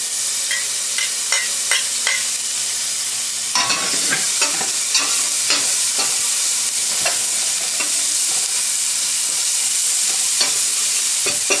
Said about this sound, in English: The pan feels relatively hot, so first the garlic goes in.